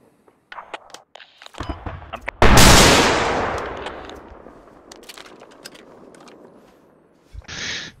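Gunfire in the military shooter Squad: scattered shots, then a loud blast at about two and a half seconds that rolls off slowly, with a few more cracks and a late burst near the end.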